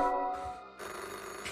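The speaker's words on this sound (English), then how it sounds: "I'm getting a phone call." Telephone ringing with an incoming call in a retro VHS-style puzzle game, an electronic ring tone in a short repeating pattern, steady and fairly loud, with no talking.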